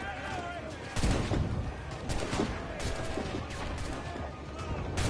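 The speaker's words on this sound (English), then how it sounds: "let me use the swivel guns" Swivel guns fire from a ship in Assassin's Creed Black Flag, a string of heavy, booming shots landing close and loud over continuous game noise, with a voice talking underneath.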